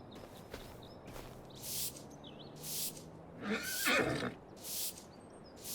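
Horses in Farming Simulator 25 letting out several loud whinnies and snorts in separate bursts, with faint hoof shuffling and a few quiet bird calls in between.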